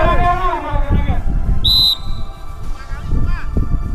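One sharp, high whistle blast cuts through amid voices and shuffling movement at a security guard training drill, with people talking before and after it.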